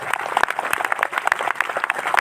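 An audience at a spiritual discourse claps in a burst of scattered, uneven applause, moderately loud and close, with a few sharper individual claps standing out.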